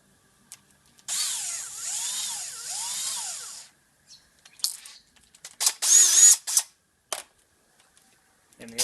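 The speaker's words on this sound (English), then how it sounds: "So I'm going to try them both out, the drill and the driver." A Stanley Fatmax cordless drill with a PH2 bit runs in a sustained whining burst, near and fairly loud, followed by several shorter stop-start whirring spurts as screws drive into fence palings.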